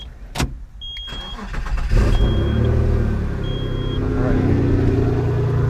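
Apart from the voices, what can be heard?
Subaru SVX engine starting and running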